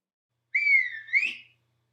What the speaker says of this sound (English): Malusi's shrill whistling drives the sheep out of grandfather's kraal.